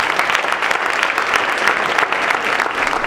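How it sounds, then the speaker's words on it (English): A town hall meeting audience breaks into steady, moderately loud applause, many hands clapping together for a few seconds with no pause. "Please give them a round of applause."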